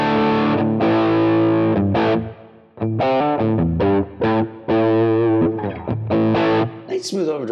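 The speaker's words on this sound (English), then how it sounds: "Nice smooth overdrive." A guitar runs through a smooth overdrive preset on a Quad Cortex, playing chunky chords and short riffs with gaps between phrases, full and saturated, alone and up front.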